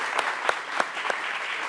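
An audience applauds a young singer at a TV show, with loud, continuous clapping broken by a few sharper, accented claps.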